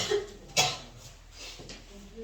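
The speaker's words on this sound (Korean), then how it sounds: "다들 기침 여기저기서 하고 있고" A single sharp cough bursts out briefly in a room, with faint murmuring and a soft throat sound around it.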